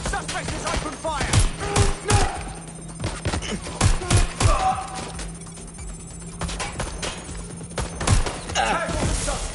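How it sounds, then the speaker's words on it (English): Gunfire rings out in the video game Watch Dogs. Dense, rapid volleys of shots and crashing impacts run almost nonstop, loud and close, with occasional voices mixed in. "Suspect is open fire!"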